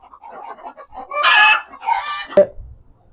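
Egg-laying hens on a chicken farm: soft clucking at first, then a loud rooster-like crowing call and a second squawk, ending with a sharp short cry, close and alone.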